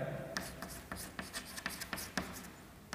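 A pen scratches across paper as nitrogen bases and nucleosides are written out, giving a run of short, evenly spaced strokes, close and soft.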